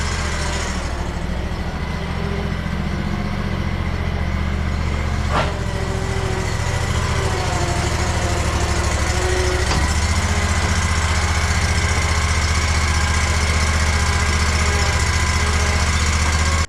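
A practically brand new riding lawnmower engine runs continuously and loud nearby, a steady droning hum with a couple of sharp clanks partway through.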